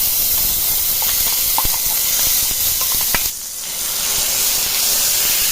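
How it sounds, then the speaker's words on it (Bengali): Pea paste hits hot ghee with asafoetida in a pan for motorsutir kachori filling, producing a loud, continuous, close sizzling hiss that briefly dips midway before resuming. "এবার মটরশুঁটি পেস্টটা দিয়ে দেবো এর মধ্যে।"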